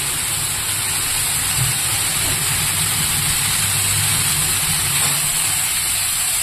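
Chopped bottle gourd added to hot oil with black cumin and coriander seeds on a gas stove gives a loud, continuous close-up sizzle, a dense steady hiss without a break and no voices.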